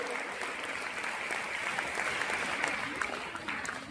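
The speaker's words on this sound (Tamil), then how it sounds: "நம்முடைய தமிழ்துறை சார்ந்த ஆசிரியர் பெருமக்களுக்கு ஒரு பலத்த கரவொலி எழுப்பி" An audience applauds at a Tamil pattimandram debate event, a steady wash of many hands clapping together that holds at an even level for several seconds, with no speech over it.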